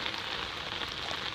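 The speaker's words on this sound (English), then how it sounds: "In the rain, pouring." Pouring rain falling on a street that has flooded like a river, a dense, steady hiss of drops hitting surfaces with no break, recorded on a phone and fairly faint, with no talking.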